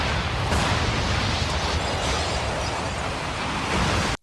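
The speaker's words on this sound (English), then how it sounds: "Big explosion there." A big explosion from a Batman: The Animated Series episode, a loud sustained broadband roar of blast and rumble lasting about four seconds before cutting off abruptly.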